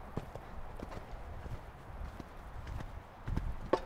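A horse walks during a riding lesson, its hooves clip-clopping in a steady, fairly faint rhythm on the ground, with a slightly heavier cluster of steps near the end.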